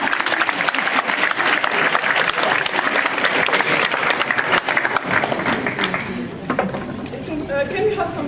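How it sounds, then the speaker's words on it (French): A theatre audience applauds an improvised French theatre performance, with loud, continuous clapping that thins out toward the end as voices come through. "on peut les applaudir pour leur courage quand même"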